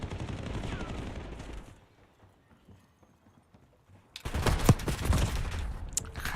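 Gunfire in a Call of Duty match: bursts of rapid automatic shots at the start, a quiet pause, then another loud, dense volley of shots to the end.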